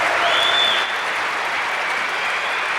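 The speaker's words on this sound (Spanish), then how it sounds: "Denle un merveilleux. aplauso grande al rey" A church congregation claps for the king in sustained, even applause, a full room of hands at steady volume with no talking over it.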